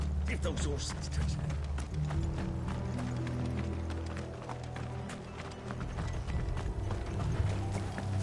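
Horse hooves clop along continuously under a rumbling carriage and background noise, with voices talking over it.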